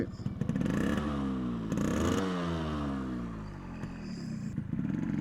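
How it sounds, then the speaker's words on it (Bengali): An old 1980s–90s two-stroke motorcycle engine runs close by, a loud buzzing drone whose revs rise and fall, with a rattling clatter underneath. "এই টু স্ট্রোক বাইকের যে একটা রাজকীয় সাউন্ড"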